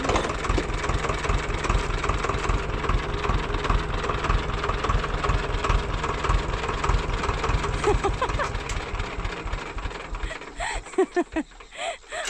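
A tractor engine idles at a farm field during sowing, a close, steady low chugging throb that runs unbroken for most of the stretch, then falters and sputters as it is shut down near the end.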